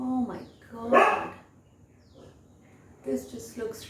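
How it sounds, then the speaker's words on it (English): A dog barking indoors in a home kitchen, two or three sharp, close barks spaced across a few seconds, with a person talking around them. "She's barking."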